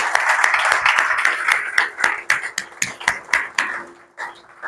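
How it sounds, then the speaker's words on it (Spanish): A church congregation claps during a sermon, with distinct rhythmic claps in uneven bursts that gradually thin out and fade toward the end. "Denle un aplauso al que es 3 veces santo."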